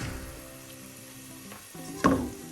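Onions sizzle in hot oil with a teaspoon of salt, a soft steady frying hiss. Near the end, a spoon stirs and scrapes the pan with a louder burst.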